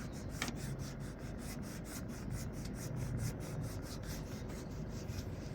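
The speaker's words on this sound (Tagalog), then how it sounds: "Irarablan natin siya ng aceton." Steady rubbing and rasping of a cloth scrubbing acetone over a surface to lift stuck glue, a continuous close scrape with a rhythmic back-and-forth texture and no talking.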